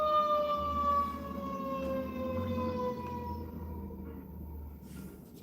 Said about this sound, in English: Let me wait till these sirens